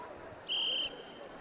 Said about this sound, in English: We hear the first whistle there